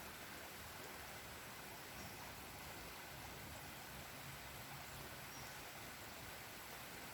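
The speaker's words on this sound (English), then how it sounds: "this is like river water, fresh water. Right from the mountains." Cold fresh mountain river water rushing steadily on a nature trail in Surrey, a dense continuous broadband wash heard up close with no break and no voices.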